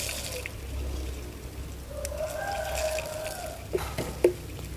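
Mineral water trickles and gurgles softly from a pouring vessel onto aglaonema stem cuttings in a pot, a faint close stream with a few small splashes and drips near the end.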